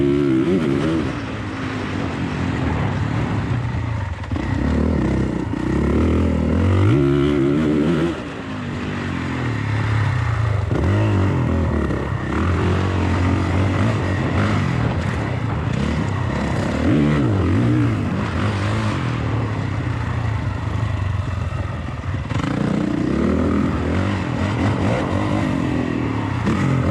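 A KTM-style dirt bike engine revs and bogs continuously on a brutal trail ride, close and loud, with the throttle rising and falling throughout and a brief dip partway through.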